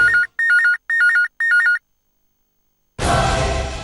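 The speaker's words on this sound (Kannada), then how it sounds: "ಸರ್, ಆ ಕಿಡ್ನಾಪರ್ಸ್ದೇ ಫೋನ್ ಇರಬೇಕು. ರಿಸೀವ್ ಮಾಡಿ." A telephone rings in a tense Kannada TV serial scene, four quick, loud electronic trill bursts in an even rhythm, then a short silence before a dense burst of background sound begins.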